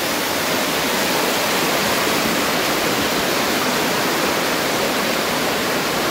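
Water rushes through a cave near Cherrapunji, Meghalaya, a loud, dense, unbroken roar of flowing stream filling the space evenly with no pauses.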